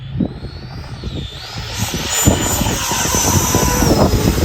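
Electric motor of a Freewing Hornet RC jet airplane whining as it throttles up, a high pitch sweeping upward and holding, with wind buffeting and handling noise close to the microphone.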